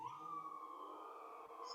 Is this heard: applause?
no